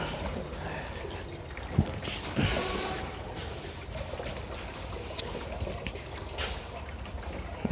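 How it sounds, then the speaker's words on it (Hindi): About twelve to thirteen litres of water splash and trickle into the tank of a mosquito repellent sprayer: a steady, hissing pour with a few sharper knocks, moderately close. "ये मैं तकरीबन इसके अंदर 12-13 लीटर पानी जो है वो मैं डालकर इसको"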